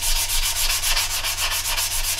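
Rhythmic back-and-forth sanding with an abrasive sponge against a surface, steady strokes repeating about every fifth of a second.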